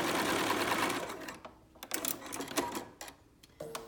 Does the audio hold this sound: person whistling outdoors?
no